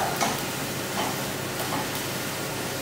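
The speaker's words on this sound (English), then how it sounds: "now our onions are softening really well" Onions softening in a pan give a steady, close hiss of frying, broadband and even throughout with faint stirring ticks.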